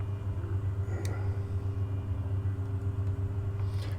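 Airliner engines in Microsoft Flight Simulator 2022 as the throttles come up: a steady low droning rumble with a faint whine above, even and continuous, no speech.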